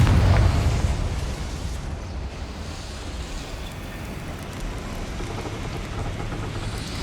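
Confringo fire spell explosion in Hogwarts Legacy, a loud low blast at the start that fades into a long rushing rumble, no voices.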